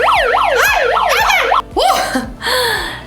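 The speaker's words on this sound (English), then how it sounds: "I've got the cool siren." A loud electronic toy siren wails in rapid up-and-down sweeps, then switches to a different warbling siren pattern, close and piercing.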